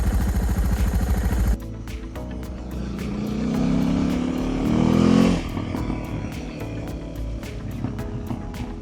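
Suzuki DR650 motorcycle single-cylinder engine cranking on its electric starter, then catching and idling with a steady loud thump, a brief rev rising midway before settling back to a rough idle.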